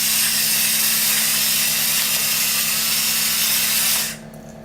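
Pepper grinder cranked over a seasoned asparagus side dish, giving a loud, steady gritty grinding that runs for about four seconds and then stops abruptly, leaving quiet room tone.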